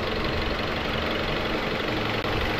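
A Ford Escape 2.3 engine, left standing for two years, idles with its mass airflow and intake temperature sensors unplugged, giving a steady, loud, close rumble without a break or any talk.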